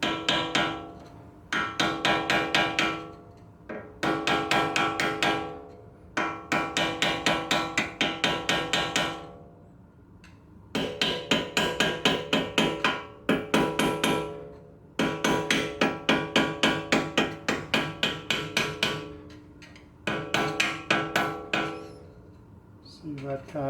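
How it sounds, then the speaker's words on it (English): A screwdriver taps in quick metallic bursts on a rusty C-clip holding the front wheel bearing of a Mercedes C300 4Matic, close and loud, in repeated runs separated by short pauses. "I was just going to take a screwdriver and kind of tap on it"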